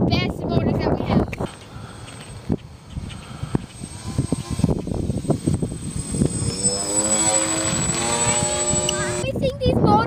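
Electric motors of a big Skywalker FPV RC plane whine and rise in pitch as they spin up, running steadily under and after voices talking.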